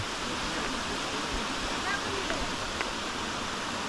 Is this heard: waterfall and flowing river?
yes